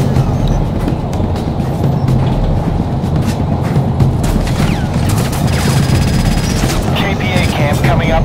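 A KPA train moving along the tracks in the video game Crysis Warhead, a continuous low rumbling drone mixed with bursts of gunfire and explosions, loud and close throughout.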